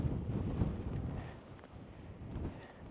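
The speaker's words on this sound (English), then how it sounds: "the wind's coming from this direction." Wind blowing steadily across an exposed mountain wild camp above 2000 ft, a continuous low rumbling buffet against the microphone that swells and eases, with no talking.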